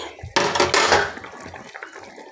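Fried fish pieces are stirred into a bubbling radish curry with a spatula, giving a loud burst of scraping, clattering metal-on-pot sounds that fade into quieter simmering and light clinks.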